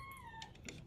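A hungry cat gives a single faint meow with a falling pitch. Soft background noise and small clattering sounds come from cooking nearby.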